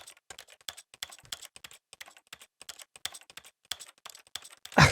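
Rapid, irregular clicks of keyboard typing in the video game The Stanley Parable, crisp and close, continuing for several seconds before a sudden louder burst at the end.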